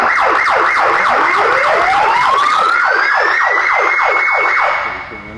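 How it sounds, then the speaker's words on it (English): A fire engine siren wails loudly, cycling rapidly up and down, with a second tone sweeping steadily upward beneath it, close and continuous before easing off at the end. "Can we turn on the siren?"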